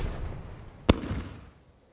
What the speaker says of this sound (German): das ist Firecracker